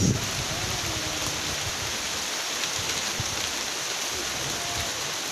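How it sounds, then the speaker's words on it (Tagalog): Dense, steady rain pouring down, a constant hiss of water striking surfaces with no pauses. "Lumalakas pa yung ulan"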